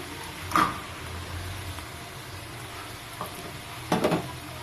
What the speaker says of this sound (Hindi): अब हम इसमें डाल देंगे अपने टमाटर और इन्हें इतना पका लेंगे कि इसमें जो है वो इनका जूस जो है वो खत्म हो जाए